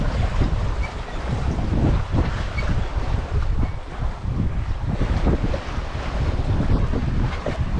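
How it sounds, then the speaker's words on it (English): A sailboat gets under way after its headsail is unfurled, with loud, gusty wind buffeting the microphone and water washing along the hull throughout, no voices. "I'm going to pull out the head sail and get moving again."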